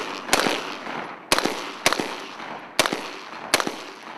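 Weapons fire at Fort Benning marksmanship training: five sharp, loud shots spaced about a second apart, each with a brief ringing decay, with no speech.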